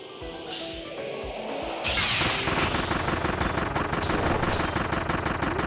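Rapid automatic gunfire in a video game, starting near the two-second mark as a dense, sustained burst of shots over a busy background of game noise.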